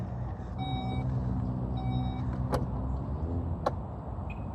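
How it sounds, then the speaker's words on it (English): A Porsche Taycan's trunk closes and the car locks, with a series of steady electronic tones followed by two sharp clicks or thunks, close by over a low background hum, no talking. "This button would close the car and then lock it back up again."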